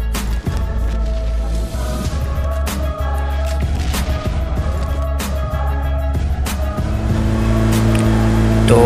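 A vehicle engine drones loudly and steadily in the video game PUBG Mobile, with a few sharp knocks and thuds over the continuous motor rumble, which swells slightly toward the end.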